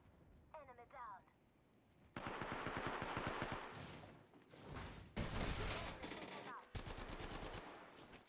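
Rapid automatic gunfire in a shooter video game, loud dense bursts of shots with mechanical clatter in several stretches, while in-game voices talk over the action.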